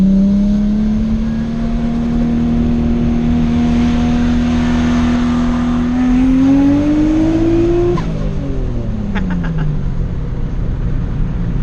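A 400hp turbocharged Nissan R32 Skyline engine drones steadily as it accelerates with the turbo spooling, pitch climbing smoothly for several seconds before dropping at a gear change, loud and close throughout.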